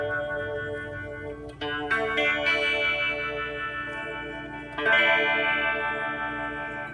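An electric guitar runs through an MXR Phase 90 phaser pedal with its bias adjusted. Sustained chords are strummed several times, and the tone shimmers and sweeps with a swirling phase effect.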